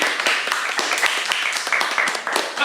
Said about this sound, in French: Donc applaudissez le même chez vous.